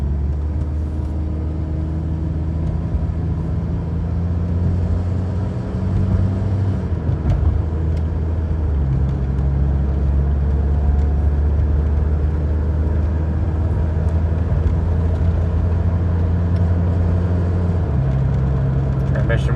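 A Predator 224cc small engine powers a race track pit vehicle as it drives around, a steady low rumble and hum holding throughout with slight shifts in pitch, close and continuous, with a voice talking over it.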